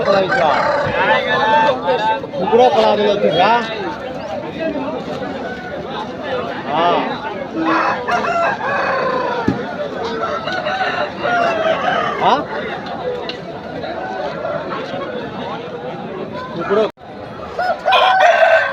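Roosters and other fowl at the Pileru weekly market crow and cluck amid a dense, continuous crowd din, with people talking throughout and occasional sharper bursts rising over the bustle.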